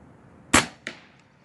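An RTI Priest .25 air rifle fires nearby, giving a loud, sharp crack followed about a third of a second later by a second, softer snap. Quiet background otherwise, with no talking.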